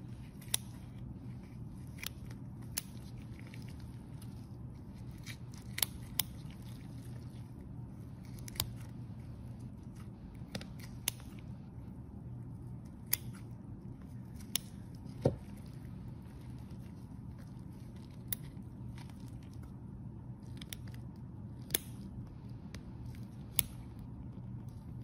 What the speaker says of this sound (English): I'm actually going to take my scissors and cut with the scissors a little bit.